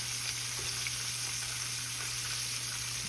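Oysters frying in hot oil, a steady dense sizzle with scattered small pops, close and continuous with no talking.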